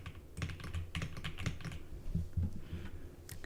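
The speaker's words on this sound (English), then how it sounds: "is a Keychron keyboard, and it is very nice, very cool" Rapid typing on a mechanical Keychron computer keyboard with a numpad, a steady flurry of close, crisp clacking keystrokes with no voices.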